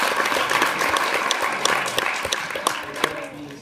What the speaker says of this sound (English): We have to give them a round of applause